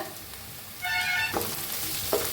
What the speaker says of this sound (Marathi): कांदा छान असा भाजायचा लालसर कलर